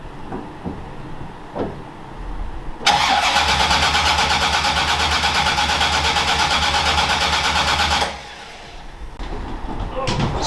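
A roof-chopped Ford Consul V8 hot rod's engine cranks over and over without catching, a loud steady churning that stops abruptly after several seconds, with faint clicks before and after.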